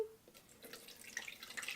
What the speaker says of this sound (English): So at this point, I'm now going to strain it in this little contraption here.